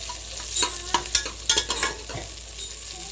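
Onions frying in a pan with a little salt for mutton sukka, a steady sizzle broken by several sharp scraping stirs of a spatula, close and fairly quiet, with no talking.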